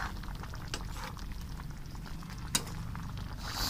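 Meat curry simmering in a covered pot for about five minutes, a steady soft bubbling and sizzling patter throughout with a brief sharp clink partway through.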